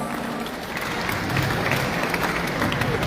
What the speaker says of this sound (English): Please give Mrs. Renee Weston Keynes, Mr. Theodore John, and Mr. Kayron Tadman a big round of applause.